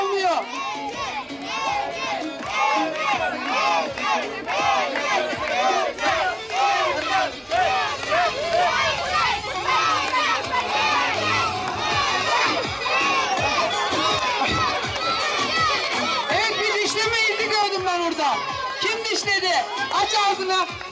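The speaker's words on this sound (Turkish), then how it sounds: "yine tezahüratları alalım" A crowd of children cheers and shouts loudly and continuously at a circumcision celebration party game, with excited overlapping young voices and an adult voice over a microphone throughout.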